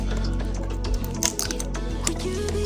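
Crinkly plastic rustling and tapping as a Pokémon card booster pack is unwrapped close up, irregular small crackles over a faint background hum.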